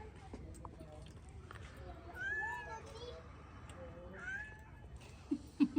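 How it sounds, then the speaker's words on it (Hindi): A cat meows faintly a few times in a quiet village home, the soft calls rising out of low background noise, with a brief louder knock near the end. "बिल्ली की आवाज़ आती है"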